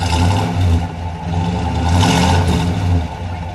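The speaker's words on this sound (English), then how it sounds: "Give it a little rev, would you please?" Engine of a 1963 Dodge Polara convertible revving on request, a close mechanical whir that swells and eases in a couple of rises over a few seconds, fairly subdued.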